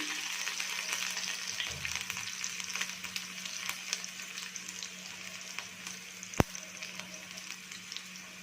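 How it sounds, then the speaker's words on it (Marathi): Garlic cloves, six or seven, frying in hot oil for a crispy dal methi, giving a steady dense sizzle throughout with a soft stir around the second mark and a single sharp tap near the end, no talk. "आणि मध्ये तेल ठेवणार आहोत हे अशा पद्धतीने याच्यामध्ये मी सहा सात पाकळ्या लसूण घेते आहे"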